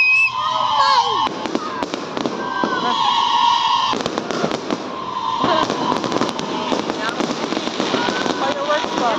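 Fireworks at the Timpupo fruit festival in Kidapawan City: repeated sharp bursts and crackling over a loud outdoor crowd, with people talking and whistling throughout.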